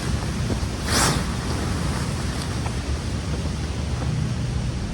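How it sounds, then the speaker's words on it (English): Wind gusts through a backyard outdoors, a heavy, continuous roar buffeting the microphone, with a stronger burst near the start. "It's getting windy."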